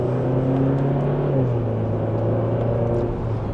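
A 2026 Kia K5 GT sedan in sport mode accelerates gently in second gear, heard from inside the cabin as a steady, moderately loud engine drone whose pitch climbs slightly and holds throughout.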